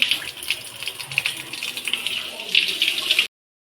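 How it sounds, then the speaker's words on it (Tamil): Bitter gourd is rinsed under running water in a home kitchen; a steady splashing trickle continues for about three seconds, growing louder near the end before stopping abruptly. "பாவக்காய் வந்து நல்லா கழுவி எடுத்துப்போம்"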